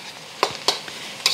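Pork sizzles and fries in its own fat, heard as soft crackling with a few sharp pops and stirring clicks at close range.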